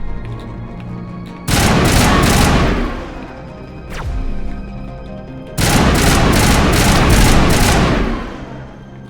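Gunfire rips through a firefight in Mass Effect Legendary Edition in two long, loud, rapid bursts, each lasting a few seconds. Between them comes a quieter swooshing rise and fall.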